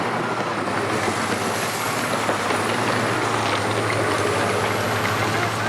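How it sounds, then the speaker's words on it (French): Heavy diesel machinery, a bulldozer at the foot of a collapsed mountain clearing a path through a rockslide, rumbles in a steady, loud drone with a constant low hum and no talk over it. "au pied de la montagne écroulée, le bulldozer tant attendu est arrivé"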